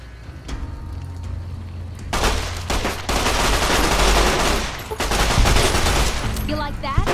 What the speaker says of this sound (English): submachine gun.